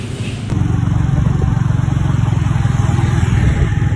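A fast-passing motorcycle engine roars in loud and close, holding a steady, buzzing drone after a sudden onset.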